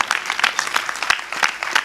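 A comedy show audience at a Gujarati stand-up performance breaks into applause, a dense burst of clapping that continues steadily through the moment.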